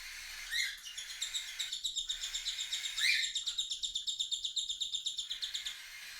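A begging chick chirps in rapid, repeated high peeps while a parent bird feeds it, a continuous run of close, insistent calls that breaks off briefly twice before resuming, with no talking.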